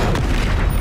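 A Bombarda spell in Hogwarts Legacy, cast during an Ancient Magic trial: one short, loud, deep explosive boom fills under a second.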